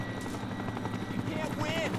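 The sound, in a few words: helicopter in the video game Final Fantasy VII Rebirth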